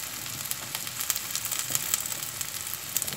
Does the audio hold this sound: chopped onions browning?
yes